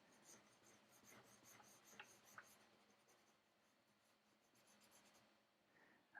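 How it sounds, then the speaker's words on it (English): A drawing tool scratches and rubs across paper while sketching a walking path and reeds, giving quiet, uneven rasping strokes with a few sharper scrapes and a louder bump at the end; no talking. "I'm really scratching this paper too,"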